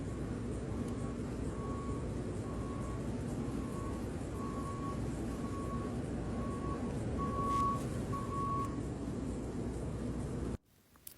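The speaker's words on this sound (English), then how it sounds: "that beeping, that's the backup alarm for the feed truck and the skid steers" Backup alarm on a feed truck beeping at a dairy hoof-trimming site, about eight steady evenly spaced tones over a continuous broad barn rumble, fairly clear and alone, ending abruptly.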